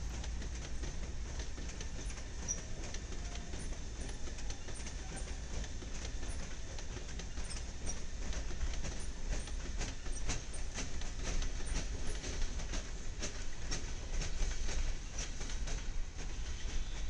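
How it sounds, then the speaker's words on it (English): A freight train hauling leased GATX locomotives rolls through St. Louis, a steady close rumble with rhythmic wheel clatter and rail noise throughout, nobody speaking. "Check out these leaser units that we found deadheading on this train through St. Louis."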